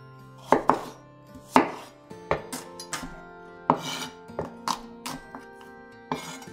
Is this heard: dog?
no